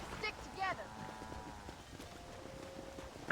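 Horse hooves clip-clop steadily in Red Dead Redemption, faint and mid-distance, under people chatting over the game.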